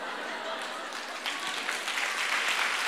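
Audience applause during a philosophy lecture, a continuous crowd clapping that builds slightly in intensity over a few seconds, heard from within the hall.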